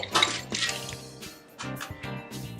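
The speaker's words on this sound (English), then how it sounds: "we're going to start with a Boston shaker glass full of ice" Ice is loaded into a Boston shaker glass to build a cocktail. Close, bright clinking and rattling of cubes against the glass comes in two bursts separated by a brief lull, with no talking.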